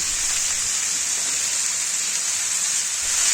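Broccoli pieces sizzling in a pan with potato and carrot, a steady even hiss of frying that holds constant throughout with no talking.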